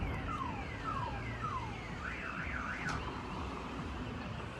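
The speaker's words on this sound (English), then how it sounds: "We can hear alarms going off" Alarms wail near a port area after an explosion, a car-alarm-like cycle of repeated falling tones and then a warbling tone, faint and distant over steady background noise.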